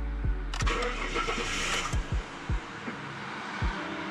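A Barra-engined car cranks over with a few rhythmic turns, then catches and settles into a steady rumble, punctuated by several low thumps.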